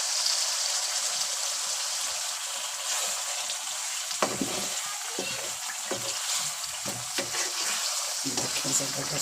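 Potatoes hiss and crackle as they fry in sizzling masala in a karahi for aloo karahi, a steady close sizzle with a few sharper spits and stirring sounds toward the end.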